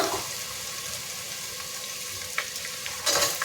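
Chana dal frying in oil in a pan while making upma, giving a steady, close sizzle with a few brief louder crackles near the end.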